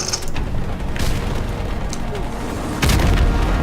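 A heavy boom of a grenade explosion in Call of Duty Modern Warfare Remastered, with a deep rumbling blast near the end amid ongoing battle noise and mechanical clatter.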